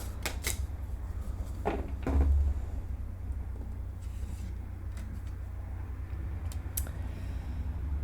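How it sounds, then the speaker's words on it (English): Tarot cards are shuffled close up in a series of crisp riffling and snapping bursts, irregular and fairly loud over a low background hum. "Around here, I shuffle until Spirit tells me to stop."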